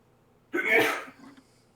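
A single sharp sneeze close by, a sudden burst followed by a short fading exhale, otherwise quiet.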